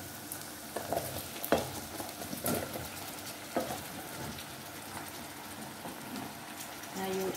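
Calabash pieces tossed and stirred into frying turmeric, salt and spices in a pot: a soft, fairly quiet sizzle with irregular spoon knocks and scrapes.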